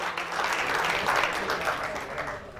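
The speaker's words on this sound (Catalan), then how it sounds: "un aplaudiment, si us plau." A studio audience on a Catalan TV quiz show for school teams breaks into a dense burst of applause that holds steady and then tapers off toward the end.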